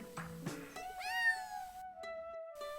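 A cat gives several drawn-out meows, close and clear, with a short pause between calls.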